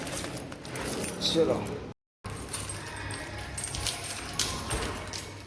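Keys on a gas key ring jangle and clink in short bursts close by, with a brief silent gap midway, while someone talks over the sound.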